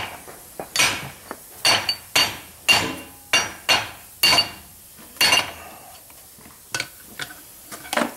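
Hammer strikes on metal while working on a Ford 7410 tractor transmission: a dozen sharp, ringing clanks at an irregular steady pace, close and fairly loud, thinning out toward the end.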